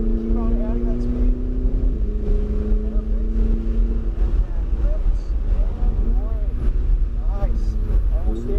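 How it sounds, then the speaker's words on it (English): Ferrari 488 GTB engine at full throttle on the Englishtown Raceway Park course, a steady loud engine drone running throughout under an instructor's voice. "Look down your straightaway and go full throttle"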